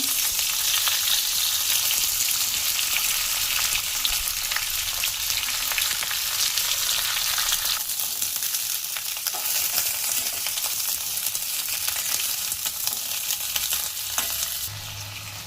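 Cut flat beans and potatoes fry in mustard oil with cumin, nigella seeds and dried chillies, producing a loud, constant sizzle with occasional stirring, easing slightly at the very end.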